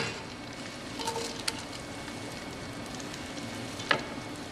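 Chopped onions go into four tablespoons of melted butter in a pan, giving a soft, steady frying sizzle, with a few light clicks and stirring knocks.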